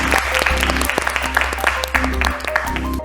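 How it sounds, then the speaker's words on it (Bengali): Loud, steady applause from a studio audience fills a family game show after a correct quiz answer. It is dense and continuous, with a low hum and some voices mixed in. "জোরে হাততালি।"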